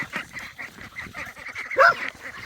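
A flock of domestic geese and ducks honk and quack in a busy, overlapping chorus nearby, with one louder honk rising near the end.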